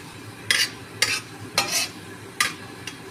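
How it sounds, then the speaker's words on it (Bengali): Five or six cloves of chopped garlic sizzle in hot oil, with four or five sharp bursts of stirring scrapes at regular intervals over a soft frying hiss. "এবার রসুন কুচিগুলো দিয়ে দিচ্ছি, 5 থেকে 6টা রসুন কুচি।"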